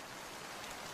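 Steady cartoon rain hisses without a break, an even wash of falling drops at moderate volume with nothing else over it.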